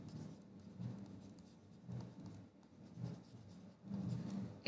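A pen writes headings on paper in a handwritten accounting table, making soft, close scratching strokes in short bursts with brief pauses between them.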